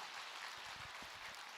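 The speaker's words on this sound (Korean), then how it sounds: "박수를 받으세요" Audience applause at a Buddhist monk's question-and-answer talk, a dense steady wash of clapping from a crowd, moderately faint and continuous through the short moment.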